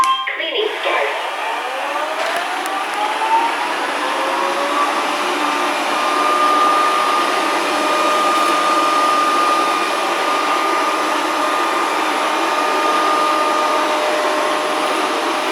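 A Proscenic 790T robot vacuum cleans along baseboards in edge mode, a steady close whirring motor hum with a rising whine as it starts, running continuously throughout.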